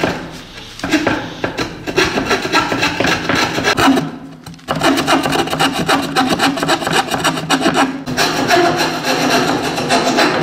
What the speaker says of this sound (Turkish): Sürekli bu testere oynayacak, yani gidip gelecek, tamam mı?